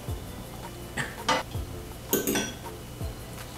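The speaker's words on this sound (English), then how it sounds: "Mix that in." A utensil works through banana bread batter in a bowl, giving scattered scrapes and clinks against the bowl with a few sharper knocks.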